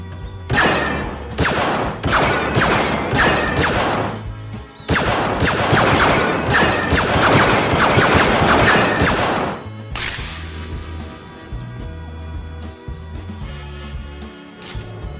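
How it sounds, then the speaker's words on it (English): A DL-18 blaster pistol prop fired one-handed, bursts of rapid electronic zapping shots in two long volleys, loud and close, followed by quieter whirring sounds. "we're gonna do some one-handed shooting"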